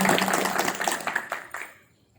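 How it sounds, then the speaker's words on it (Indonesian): Audience applause at a formal ceremonial event, a dense patter of many hands clapping that fades out toward the end. "Beri tepuk tangan supaya rekan-rekan"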